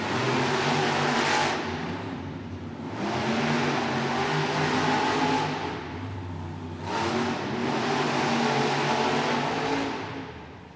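Monster trucks racing at a Monster Jam arena show, their big engines revving loud in long surging waves that rise, fall and rise again, with the roar of the crowd and arena filling the space behind them.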